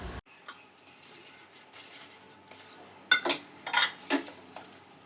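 Clinking and clattering of dishes and utensils being washed in a few brief bursts, following a quieter stretch of faint background noise.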